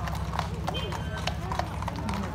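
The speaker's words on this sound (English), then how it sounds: "Oh, look at that horse." A horse walks outdoors, its hooves clip-clopping in a steady rhythm under constant nearby conversation.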